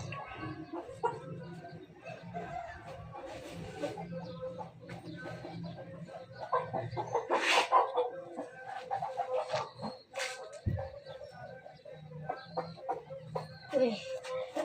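Rooster and chickens clucking in a backyard coop, scattered calls and squawks rising in the middle, with someone talking intermittently underneath.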